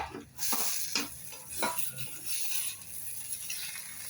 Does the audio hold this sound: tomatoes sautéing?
yes